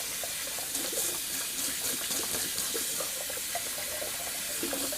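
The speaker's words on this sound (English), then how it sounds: "Just going to rinse out the Atomic Rocket real quick while I have the water running." Tap water running into a sink while a shaving brush with a soft 26 mm knot is rinsed, a steady close splashing gush with small irregular spatters.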